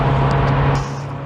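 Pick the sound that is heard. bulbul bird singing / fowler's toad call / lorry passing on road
lorry passing on road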